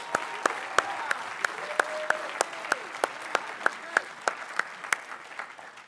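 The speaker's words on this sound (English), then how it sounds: "let's give them one more round of applause" Applause from a presentation audience, with sharp regular claps standing out over a softer wash of clapping and faint voices, steady for several seconds.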